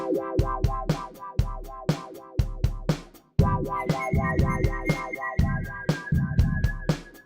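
Electronic rhythm from a drum rack and a Simpler sampler in Ableton, punchy kick hits and repeating percussive beats with sustained tonal layers coming in partway, loud and alone.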